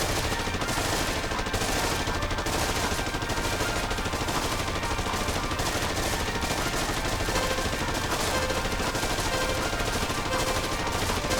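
Constant, dense light-gun fire from the Taito arcade game Haunted Museum, with rapid rattling shots and game effects packed together at full volume across the whole stretch.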